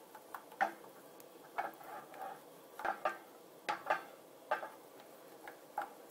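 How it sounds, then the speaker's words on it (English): A wooden spoon stirring cheese into mac and cheese in a pot: soft, irregular knocks and taps against the pot with faint wet scraping, close and quiet, with no talk. "stir it with that wooden spoon until it's all incorporated"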